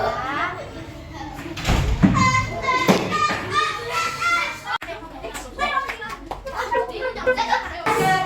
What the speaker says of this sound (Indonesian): silakan kembali tepuk tangan buat teman-teman kita